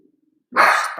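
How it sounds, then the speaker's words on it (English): A dog gives one loud, close bark indoors after a moment of near silence, followed by a brief trailing tail of sound. "She's barking at somebody."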